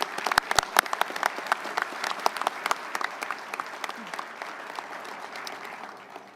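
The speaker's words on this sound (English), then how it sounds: "Let's give a round of applause." Applause from a seated audience at a naval luncheon, a steady patter of many hands clapping at moderate distance that gradually thins and fades out.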